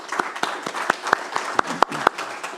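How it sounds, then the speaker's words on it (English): Sparse audience clapping after a talk, a handful of separate, fairly close hand claps with irregular rhythm rather than a full ovation. "let's have a round of applause for the presentation"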